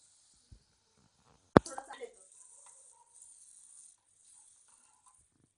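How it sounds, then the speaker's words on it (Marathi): Water poured into a pressure cooker holding rice makes a sharp splash followed by a short gurgling trickle, fading to a faint hiss. "याच्यासाठी आपण 2 वाट्या पाणी टाकलेलं आहे"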